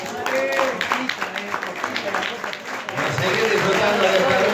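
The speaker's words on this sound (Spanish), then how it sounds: "¡Fuerte el aplauso!" An audience at a party for elderly guests on a country estate claps and cheers under loud voices, the applause swelling toward the end.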